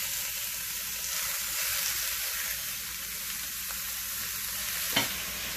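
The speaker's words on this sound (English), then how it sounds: "hear that sizzle. You know we like that." Beef tri tip sizzles steadily in a hot cast iron Dutch oven, a constant crackling hiss with a faint clink of a utensil near the end.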